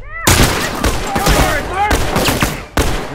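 Rapid rifle gunfire rattles in The Last of Us multiplayer, dense overlapping shots and bursts ringing out loud and close for several seconds amid other combat noise.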